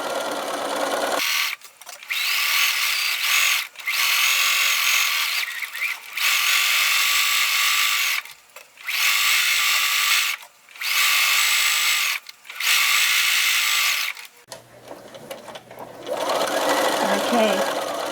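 A sewing machine stitches a fleece scarf in several loud, close bursts of steady whirring, each separated by short pauses. A voice talks between the runs.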